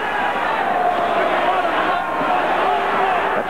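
Boxing crowd in Sacramento roaring through a fight, a dense continuous cheer heard at a distance beneath steady commentary.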